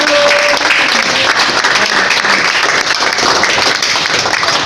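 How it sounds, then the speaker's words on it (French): A church congregation applauding during a deliverance service, dense, loud, sustained clapping from many hands with no pauses. "Il faut applaudir à Jésus."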